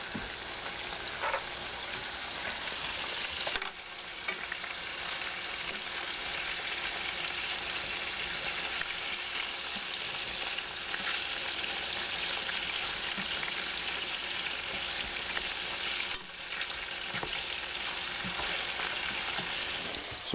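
Small pieces of food with pink tails fry in a pan, giving a steady, close hiss of sizzling oil that runs on throughout, with occasional faint clicks and taps as they are flipped and no talking.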